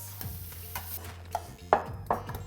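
Vegetables go into a hot pan of shrimp and are stirred, giving scattered soft clatters and scrapes over a faint sizzle and low steady hum, with a few sharper knocks near the end.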